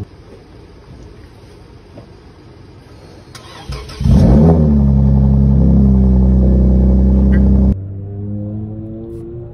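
A 2008 Lexus IS250 with a modified exhaust starts up with a loud burst, then holds a steady, deep, close rev for several seconds before settling back to a lower rumbling idle.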